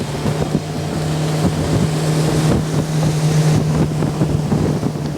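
A G3 Angler V164 aluminum motorboat, 16 feet 4 inches long, runs through a tight turn on the water, its outboard drone steady and loud, with splashing hull noise and wind buffeting the microphone.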